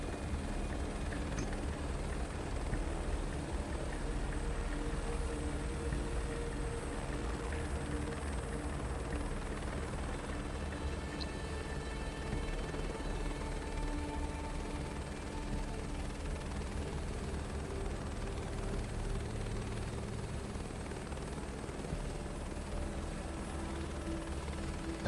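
Steady helicopter rotor drone from the video game Microsoft Flight Simulator 2024, continuous and moderately loud for the whole stretch, with faint mechanical creaks and rattles layered underneath and no speech.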